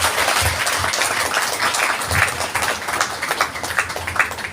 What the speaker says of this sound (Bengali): জোরে সবাই হাতে তালি দেবে